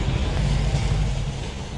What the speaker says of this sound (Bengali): সামনের দিকে এই যে টোটোগুলো যাচ্ছে